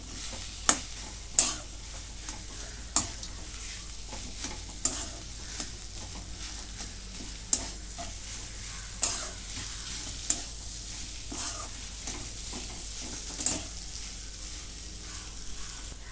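Boiled potatoes are stirred and mixed in a frying pan. A spatula scrapes and knocks against the pan every second or so over a faint, steady sizzle, with no talking.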